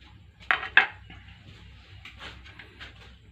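Ceramic dishes and a bowl clink sharply twice as pork is placed in to marinate, followed by softer scattered knocks and scrapes of kitchenware in a quiet kitchen.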